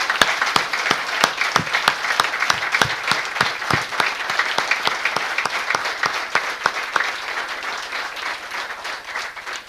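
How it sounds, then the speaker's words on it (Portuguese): Applause for Sr. Pinto Monteiro at a care home inauguration: a room full of people clapping steadily and loudly, dense and sustained throughout. "eu pedi uma grande salva de palmas para o Sr."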